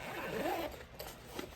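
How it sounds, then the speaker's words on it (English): Zipper pulled open on a fabric carrying case for a camera tripod, one short raspy unzip close by, fairly quiet and heard alone. "So you just unzip it."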